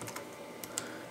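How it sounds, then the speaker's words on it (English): A few quick keystrokes on a computer keyboard while a command is entered to start a BIOS password removal tool, faint and sparse clicks over a quiet background, no voices. "So we're gonna type"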